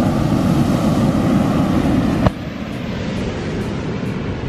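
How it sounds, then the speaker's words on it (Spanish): Ocean waves break on the shore in France as a steady, loud rushing roar with wind buffeting the microphone. A sharp click partway through leaves the surf slightly duller. "esas son las olas que hay, son todo orilleras"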